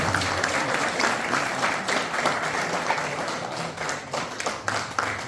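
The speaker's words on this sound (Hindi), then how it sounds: "तालियां अभी भी कमजोर है" A crowd applauds the police after the arrests in a murder case, steady close clapping from many hands that runs the whole stretch without a break.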